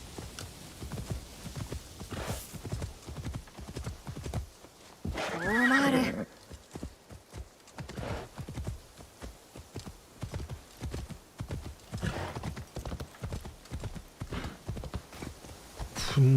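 Horse hooves in Assassin's Creed Shadows clip-clop in a steady walking rhythm throughout, close and clear, with a loud whinny rising briefly midway.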